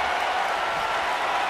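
A wrestling arena crowd in WWE 2K19 cheering and applauding during an AJ Styles versus Daniel Bryan match, a steady, dense wash of clapping and crowd roar at a constant level with no breaks.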